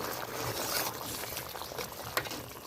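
Potato kurma curry boils in a pot on the stove, giving a steady, dense bubbling and hissing simmer close up, with a small pop near the end and no voices.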